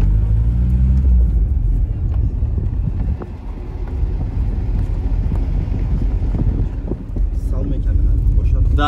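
A car strains up a stony road with a low, rough engine rumble and wind buffeting the microphone, under people calling out to each other close by.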